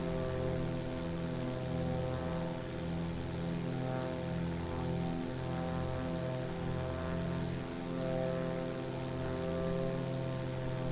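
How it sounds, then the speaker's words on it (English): Beechcraft BE24 Sierra single propeller engine droning steadily in cruise flight in a flight simulator, a constant low harmonic hum from the cockpit with no talking, holding an even level the whole time. "And now we can get some airplane ASMR."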